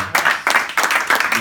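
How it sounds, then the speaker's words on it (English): Brief burst of audience applause at a gathering, loud and close, coming in a few uneven swells over about a second and a half with no speech on top. "I think we all owe Jason Barrett a round of applause for putting this together."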